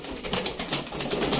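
Pigeons at a bird auction coo and flutter in soft, repeated pulses close by, a steady cluster of bird sounds with no talking.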